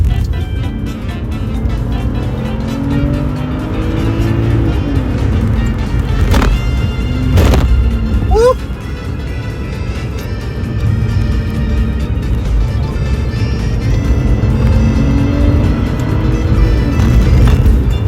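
A used car drives along a road from inside the cabin, its engine droning steadily and rising in pitch as it accelerates. Brief knocks and rattles cut in now and then, and faint talk sits underneath.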